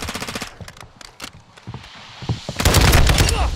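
Rapid automatic gunfire in Call of Duty: Modern Warfare II, with a Hemlock rifle build in play: bursts of sharp cracking shots that give way to a brief lull and then a dense, loud volley, alone with no talk over it.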